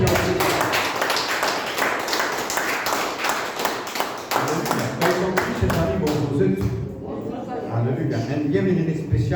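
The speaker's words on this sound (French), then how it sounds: "Une acclamation pour le Seigneur." A church congregation claps and cheers during a prayer service, with dense, fast rhythmic clapping that thins out partway through. Voices and cheering rise over it toward the end.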